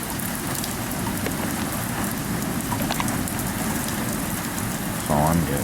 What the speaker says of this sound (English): Just rain.